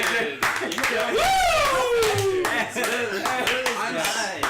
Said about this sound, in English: Every time he says anything, we're clapping.